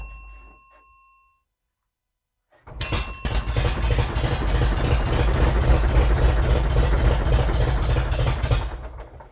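After a short near-silence, a piston aircraft engine catches abruptly and settles into a loud, steady, close idle with the throttle barely cracked, running on until it cuts off at the end; no talk.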